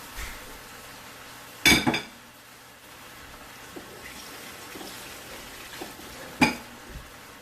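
Neck bones dropped into a metal pot of greens with spinach and okra, giving two sharp clanking impacts with a quieter stretch of faint kitchen handling between them.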